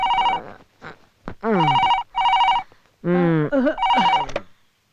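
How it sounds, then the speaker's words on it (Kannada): A telephone rings in repeated bursts of bright electronic bell tones, with voices talking in the pauses between rings. "ಯಾವನವನು ಬೆಳಗ್ಗೆನೆ ಫೋನ್ ಮಾಡಿದಾನೆ, ಹೋಗ್ ನೋಡು"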